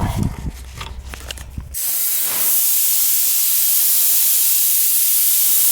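After a short mechanical rattle, a loud, steady hiss of dry nitrogen rushes from a line on a heat pump system and continues without letup.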